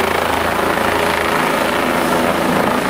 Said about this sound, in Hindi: पूर्णिया में इन दिनों रोज कहीं न कहीं 3 से 4 हेलीकॉप्टर आकाश में घूमते हुए जमीन पर आ धमकते हैं।